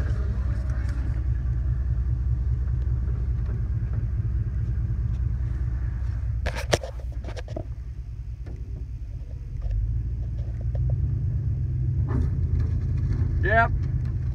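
Vehicle in first gear towing an already broken, bent boat, a steady low engine rumble throughout with a brief dip and scrape midway, and people talking over it.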